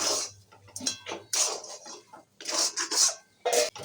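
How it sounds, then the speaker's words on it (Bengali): A spoon stirs and scrapes a cooking pot of vegetarian filling seasoned with salt and sugar, giving intermittent close metallic clinks and scrapes in short bursts separated by quiet gaps. "এবারে এটাকে মিলিয়ে নিতে হবে।"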